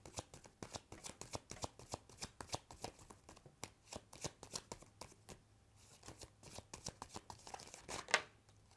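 Tarot cards being shuffled by hand in a reading, a close, steady run of crisp riffling flicks and soft slaps, with one sharper snap near the end and no talking.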